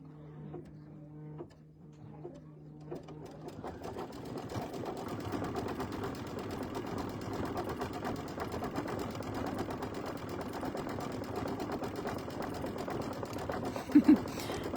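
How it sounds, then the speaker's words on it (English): A home sewing machine runs a decorative stitch on a quilted mug rug, a steady mechanical whir with rapid needle ticks that builds after a few seconds of low hum and continues unbroken. "it's gonna do that same decorative stitch for the top and bottom for the sides."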